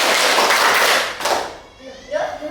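Children in a classroom clapping their hands together in a group clapping exercise, a dense burst of overlapping claps that fades, followed by a voice speaking.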